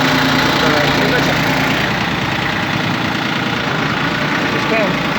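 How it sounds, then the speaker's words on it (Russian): A Yanmar F15D mini tractor runs its rotary tiller with a steady loud engine drone and churning mechanical hum, continuous throughout, with someone speaking over it. "Давайте включим сейчас фрезу, послушаем, как работает фреза у нас."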